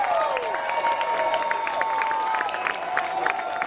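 An awards ceremony crowd cheers and applauds steadily, with dense clapping and whoops filling the room and an occasional voice rising above the din.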